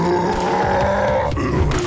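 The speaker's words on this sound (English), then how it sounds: "A juggernaut" A juggernaut zombie in the post-apocalyptic game State of Decay 2 lets out a deep, sustained roaring growl, loud and close, with no talk over it.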